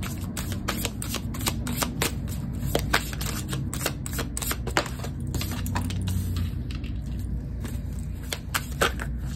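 A deck of tarot cards shuffled close by in a pick-a-card reading, with dense, continuous riffling and flicking clatter and sharp card snaps throughout, no speech.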